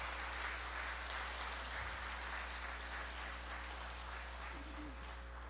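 A church congregation applauds in a faint, distant wash of clapping, steady throughout and set over a low, constant electrical hum.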